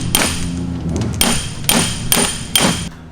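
A hammer taps an axle boot into place on a BMW 335i, giving five or six sharp, ringing metallic strikes at uneven intervals over a steady background hum, close and loud.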